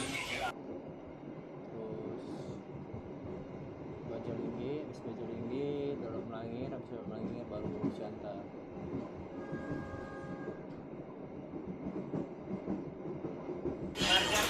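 A passenger train on the Siantar Ekspress rumbles and rattles steadily as it rolls into Bajalingge station, with rhythmic wheel clatter, creaking carriages and a brief squeal, while someone talks over it.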